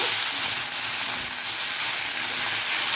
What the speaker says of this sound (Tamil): இப்போது நான் புதினா ஒரே ஒரு கையளவு எடுத்துருக்கேன். நல்லா வதக்கிக்கோங்க.